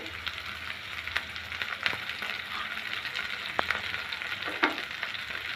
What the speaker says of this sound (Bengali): এখন নেড়ে চেড়ে মিশিয়ে নেব।